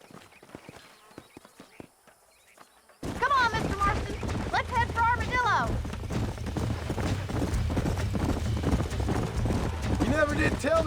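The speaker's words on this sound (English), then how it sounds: "These are fine horses." Horse hooves clip-clop in the Red Dead Redemption video game, a steady trotting beat that begins after a quiet start and carries on under talking voices and background game sound.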